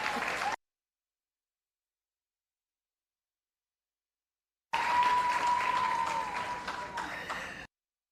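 Crowd applause at a performing arts awards ceremony, heard as a brief burst of clapping, then silence, then several seconds of dense clapping that gradually thins out, with a faint voice briefly audible.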